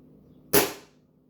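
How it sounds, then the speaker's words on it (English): A single sharp pellet rifle shot cracks out over a chronograph, firing a 14.3-grain pellet in a quiet setting, one short loud report that fades quickly. "So we'll shoot this over the chronograph and see what we get."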